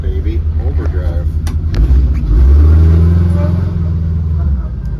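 VW bus fitted with a Subaru engine pulling away under a loud, close engine rumble that builds as it accelerates, with voices talking over it.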